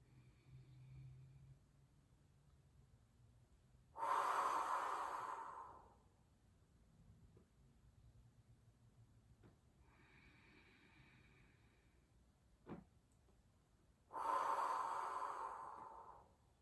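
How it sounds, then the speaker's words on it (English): A person breathing in through the nose, pausing, then blowing out through the mouth: two long, close, breathy exhales several seconds apart, with a softer nasal inhale between them in a quiet room. "I'm going to breathe in my nose, pause, then blow out my mouth."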